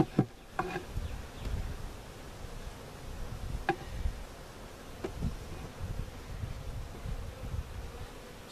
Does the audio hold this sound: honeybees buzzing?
yes